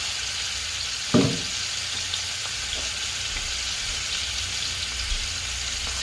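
Shrimp frying in oil with thyme and rosemary, a steady close sizzle with one brief louder clatter early on.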